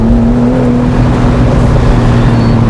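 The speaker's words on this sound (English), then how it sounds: "you can hear the exhaust now" A 2018 Mercedes-Benz SL450 in sport plus mode, its engine and exhaust droning steadily with a deep sustained tone while driving at higher revs, loud and close throughout.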